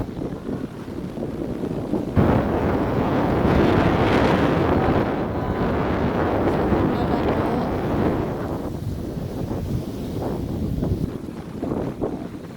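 Powerful wind sweeps Lung Mei beach in Tai Po, Hong Kong under a dark sky, a loud continuous roar and microphone buffeting that jumps up sharply after a couple of seconds and then eases slightly.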